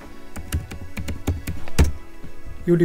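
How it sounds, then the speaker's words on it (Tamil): Keys tapped on a computer keyboard while entering a search word in Windows 10, about a dozen close, irregular clicks over a few seconds with a brief rattle at the end. "இப்போ வந்து நான் ஆன்லைன் டைப் பண்ணுறேன்"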